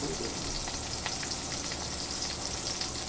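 Garlic sizzles and fries steadily in a hot pan for a pork and jackfruit stew with water spinach, a dense crackling hiss that stays even throughout with no talking.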